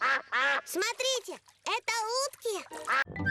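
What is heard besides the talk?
cartoon ducks quacking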